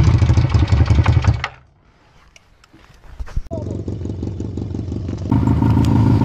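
A cheap motorcycle engine runs loud and close with a rough, rhythmic chugging, briefly drops away into near silence with faint clatter, then picks back up to a steady, throbbing idle.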